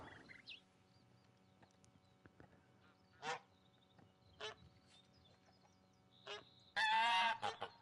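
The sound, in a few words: geese honking in a video game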